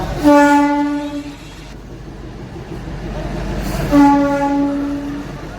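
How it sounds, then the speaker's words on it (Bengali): A train at a station sounds its horn twice: two long, loud, tonal blasts of about a second each, separated by a pause, over a steady background rumble. "তো আমার বন্ধুগুলো আর আমি ট্রেনে উঠবো"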